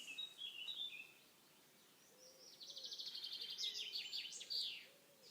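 A wild bird calls outdoors along a quiet path, giving faint, distant chirps and a brief trilling run of rapid high notes between stretches of near silence.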